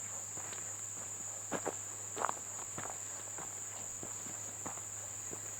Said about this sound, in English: twittering of, I'm not sure if that's some kind of cricket or some kind of frog